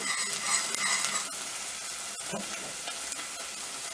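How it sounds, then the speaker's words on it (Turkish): Red pepper paste being sautéed in a pan for Urfa-style bulgur pilaf, a continuous crackling sizzle with scraping stirs throughout and a couple of sharper clicks of the spoon, close and clear with no talking. "biber salçasını atıyorum. Bunu da kavuruyoruz."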